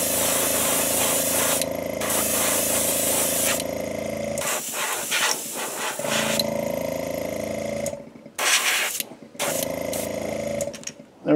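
Spray painting a yellow coat onto a yellow perch model: long, loud, steady hissing bursts from a sprayer, broken by short pauses and a stretch of rapid sputtering, close up with no talk.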